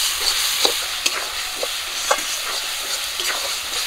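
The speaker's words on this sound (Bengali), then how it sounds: "সর্ষে বাটা, হলুদ গুঁড়ো, স্বাদ মতো লবণ, সব কিছু দিয়ে মশলাটাকে হালকা করে ভেজে নেব।" Mustard paste, turmeric and salt masala lightly frying in oil in a pan, a constant close sizzle broken by several sharp scraping stirs of a spoon.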